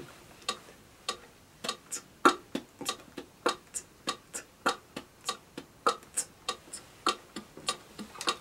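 The Everyday Looper app on an iPhone plays a metronome click track, a steady series of sharp, dry ticks at an even tempo, some accented more strongly. The clicks are clear and close, with nothing else underneath.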